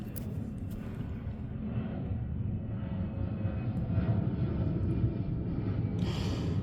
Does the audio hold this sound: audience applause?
no